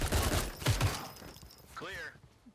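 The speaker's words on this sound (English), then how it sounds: "Sniper took one shot up top." A quick burst of gunfire in a close-quarters tactical shooter game, several rapid near shots in the first second, then a short metallic mechanical sound as it fades out.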